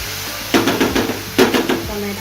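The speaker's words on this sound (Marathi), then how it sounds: "आता ह्याच्यामध्ये ॲड करतो मी टमाटर." Tomato hits a hot pan of frying onion for a Goan sardine curry, giving sizzling bursts and scraping stirs with a spoon against the pan, close and fairly loud.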